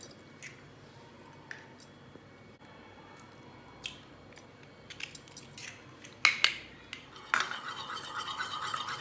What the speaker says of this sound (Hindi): अंडों को तोड़ लेते हैं।